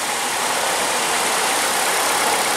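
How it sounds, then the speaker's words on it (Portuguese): Steady mechanical noise from a Ford Fusion's electric steering rack with a worn internal bearing as the wheel is turned back and forth, a continuous close hum with no talk over it. "Eu vou rodar para lá e para cá para você ver o barulho aqui."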